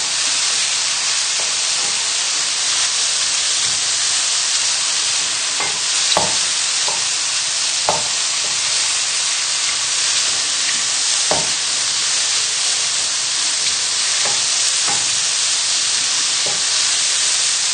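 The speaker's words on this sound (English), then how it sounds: "So just give it a stir." Garlic frying in a pan for a mushroom risotto gives a loud, continuous sizzle and hiss, with occasional clicks and scrapes as it is stirred close up, with no voices.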